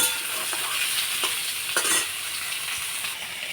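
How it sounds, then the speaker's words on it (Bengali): Mango pieces fry lightly in a pan while being stirred, a loud close sizzle broken by repeated scraping stirs, with no speech. "সব আম দিয়ে দেবো, দিয়ে অল্প একটু ভাজা ভাজা করব, খুব বেশি হালকা একটু নাড়বো।"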